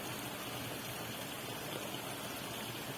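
Water from an overflowing village lake in Tamil Nadu, flowing out after thirty years, rushes in a steady, broadband wash with no breaks, moderately distant and fairly quiet, with no voices.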